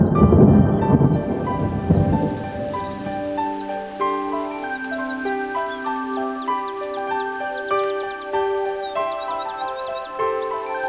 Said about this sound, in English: The magic cloud began to rain magic rain.